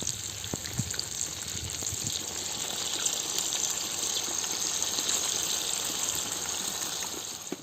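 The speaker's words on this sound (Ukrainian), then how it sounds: "Додали водичку" Water gushes steadily into a large cooking cauldron of frying lamb for plov, a continuous rushing pour that stays loud and even throughout.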